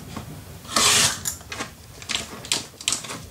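Scissors cutting paper for an altered cigar box mini album, a few sharp crisp snips and rustles with one long louder cut near the start, close and alone.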